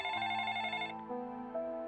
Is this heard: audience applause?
no